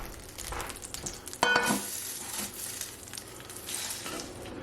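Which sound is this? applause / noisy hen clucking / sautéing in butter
sautéing in butter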